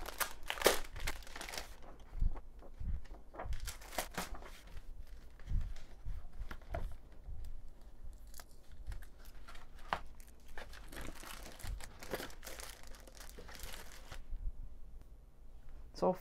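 KOALA holographic vinyl sticker paper package being opened, with repeated close crinkling, rustling and tearing of paper and plastic in irregular bursts, quiet gaps between them.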